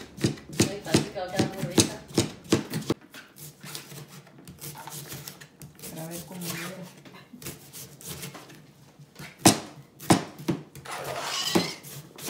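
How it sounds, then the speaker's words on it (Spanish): A knife chops vegetables for a Greek salad on a cutting board, with a quick run of crisp, close chops at the start, then scattered board knocks and scraping. "Que cortar todo bien pequeño en trozos chiquititos."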